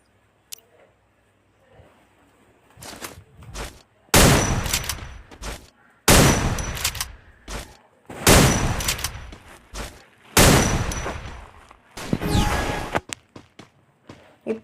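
Bursts of gunfire from a Free Fire mobile battle-royale match, loud repeated volleys of a few seconds each separated by short pauses, with lighter clicks and footsteps in between and no talking.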